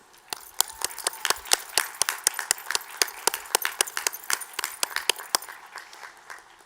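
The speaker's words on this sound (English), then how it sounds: "Will you please join me in a round of applause to recognize them?" Scattered claps at a 2020 Hood College commencement honour faculty and staff: a thin, steady patter of distinct hand claps from a small group, sustained for several seconds before tapering off.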